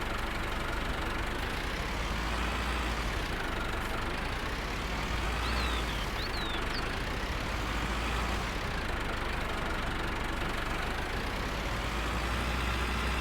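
Loader tractor engine idling in Farming Simulator 19, a steady, loud, low diesel drone that holds unbroken throughout with only slight swells.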